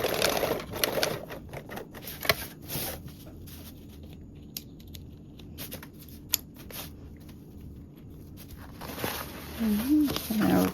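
A sewing machine tacks elastic onto a duffle bag in short, close, stuttering bursts of stitching separated by pauses, and a voice speaks briefly near the end.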